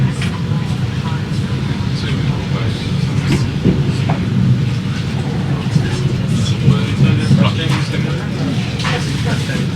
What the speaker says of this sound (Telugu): స్టార్ట్ అయిపోయింది చూడండి ట్రైన్.